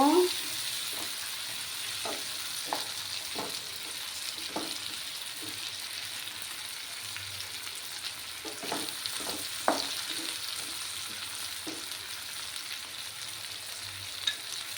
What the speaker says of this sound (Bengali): দিয়ে ভালোভাবে একটু কষিয়ে নেব।